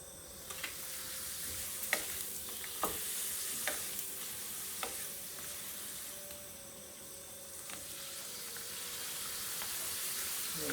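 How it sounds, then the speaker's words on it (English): Lentil rice peppers fry in hot oil on a gas stove, a steady close-up sizzle with a few light clicks and stirring taps scattered through it. "Fry the peppers and put your gas off."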